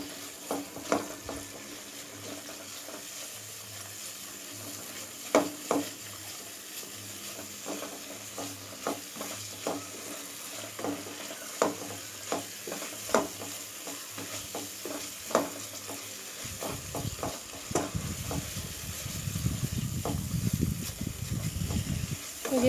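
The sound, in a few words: sautéing spice paste in oil for jackfruit curry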